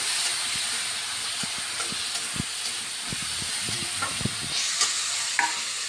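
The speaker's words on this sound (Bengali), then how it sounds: "চিকেনটা দিয়ে আমি ভালো করে নেড়ে চেড়ে একটু ঢাকা দিয়ে দিলাম।" Chicken pieces sizzle in a pan while being cooked into a home-style chicken curry with potatoes. A steady frying hiss runs underneath as a utensil stirs and scrapes in irregular knocks.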